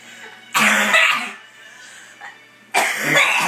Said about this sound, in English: Should really do something about that cough.